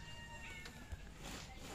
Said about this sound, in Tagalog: Galing naglalaro yung mga pusa.